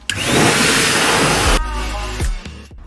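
A loud, steady rush of air from a blower drying a VW Caddy roars for over a second, then cuts to quieter whooshing with a couple of brief thumps.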